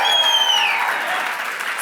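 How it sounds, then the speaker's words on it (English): An indoor audience at a school's Party on the Green program bursts into applause, a dense, steady wash of clapping with a few cheers that fades slightly toward the end. "she's not gonna be happy unless y'all cheer"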